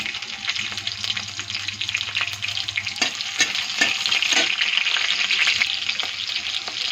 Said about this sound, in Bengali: কারি পাতাটা একটু ভাজা ভাজা হয়ে গেছে, কাঁচা লঙ্কাটা ছেড়ে দেবো